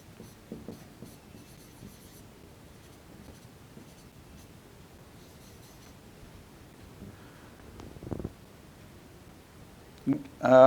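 Pen or chalk writing during a maths lesson on triangles, faint scratchy strokes in quiet bursts over several seconds, with a few louder rubbing sounds near the end.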